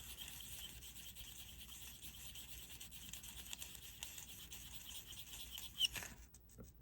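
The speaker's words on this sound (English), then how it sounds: "Let's scratch it." A vintage jewelry piece is scratched to test its gold. Faint, close rubbing and rasping strokes continue steadily, ending in a slightly sharper scrape.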